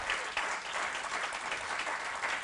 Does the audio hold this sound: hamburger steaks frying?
no